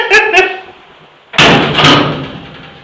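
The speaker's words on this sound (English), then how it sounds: "And the door's pretty loud." Heavy metal door of an old shipping container used as a bird hide, swung shut with a loud booming slam and a reverberant rattle; short clanks come just before it, and a voice is audible around the noise.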